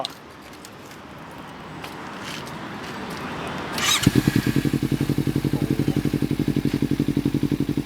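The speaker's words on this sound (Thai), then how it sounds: "ขอฟังเสียงท่อหน่อย เดียววินเป็นยังไงบ้างเสียงท่อ" A Kawasaki Ninja 300 sport motorcycle with a slip-on exhaust fires up after some quiet rustling and settles into a loud, steady, throbbing exhaust rumble close by.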